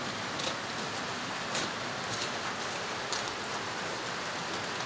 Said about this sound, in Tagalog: Sirap magligo sa rain.